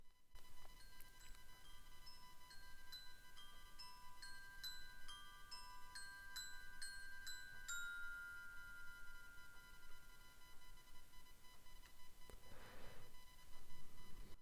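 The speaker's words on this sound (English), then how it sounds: "but this is the bells" Bells ringing in a home recording for a composed musical piece, mic placed right beside them: bright overlapping chimes struck one after another, ringing out and slowly decaying, with a soft rustle near the end.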